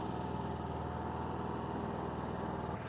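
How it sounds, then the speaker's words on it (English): A Predator 11,500-watt tri-fuel inverter generator runs at a smooth, constant idle, its low engine hum steady and quiet, heard from several feet away before cutting off near the end. "And there we go, it's running. Sounds buttery smooth as well."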